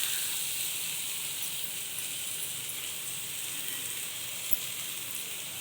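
Garlic, onion and curry leaves sauté in a pan, giving a soft, steady hiss and faint sizzle up close, with a light tap of a utensil near the end.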